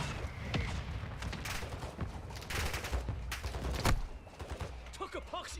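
Mortar strike explosions in a video game arrive as a dense barrage of booms and gunfire bursts under continuous loud battle noise, with a voice talking over it.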